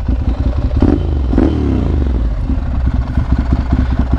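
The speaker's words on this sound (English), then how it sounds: "if you ever wondered what the sound of a Ducati Monster 796 with a Termignoni exhaust is" A Ducati Monster 796 fitted with a Termignoni exhaust runs close by with a deep, rumbling, lumpy idle and a couple of sharp throttle blips that rise and fall, loud and alone.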